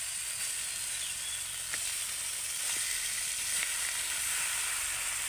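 Chicken pieces fry in a spice paste with a bright, steady hiss of sizzling and a few faint stirring touches, constant and close, with no one speaking.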